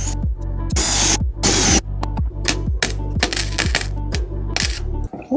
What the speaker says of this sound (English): My welder keeps stopping feeding.